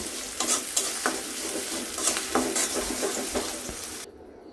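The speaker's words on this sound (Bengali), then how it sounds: "পরিমাণ মতো লবণ দিয়ে দিচ্ছি, পেঁয়াজটা ভালো করে ভেজে নিব।" Onions fry with salt in a hot pan for a wedding-style chicken leg fry, a steady close sizzle broken by repeated scraping stirs of a utensil, cutting off abruptly at the end.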